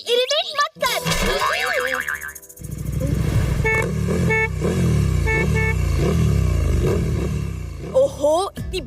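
A traffic jam in heavy rain, with car horns honking in short, repeated toots over a steady hum of vehicles while people talk nearby.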